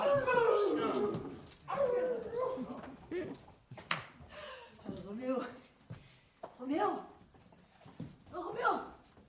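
A dog barks and whimpers amid ongoing speech, with short yips and whines rising between and under the talking in a fairly close, indoor-sounding setting.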